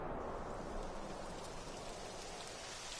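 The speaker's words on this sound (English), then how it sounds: "It would have to go and start raining, wouldn't it?" Steady rain begins falling in a Dragon Quest video game, a soft, even hiss of drops spread across the whole sound, moderately loud and continuous with no voices.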